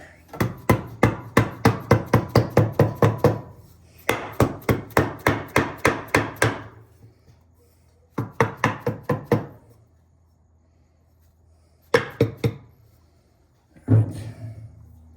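Heavy, dull dead blow hammer blows strike in quick rhythmic bursts during car clutch work, several runs of rapid thuds separated by short pauses, close and loud.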